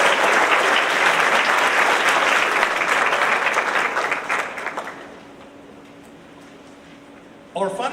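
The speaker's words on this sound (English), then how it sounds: "Another round of applause, please" An audience at a middle school awards ceremony gives a full, loud round of applause that holds for about five seconds and then quickly thins and dies away into room quiet.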